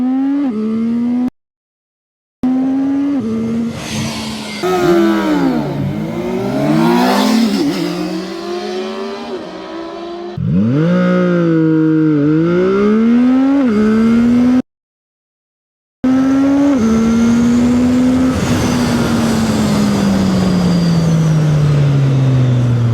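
A CFMOTO 675NK motorcycle accelerating hard from 0 to 100, its engine note climbing steeply through several gears with distinct drops at each shift and two short silent breaks. The sound is loud and close, with no talking.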